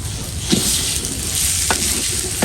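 Washed rice fries in a pot for biryani with a loud, continuous close-up sizzle and two brief stirring scrapes.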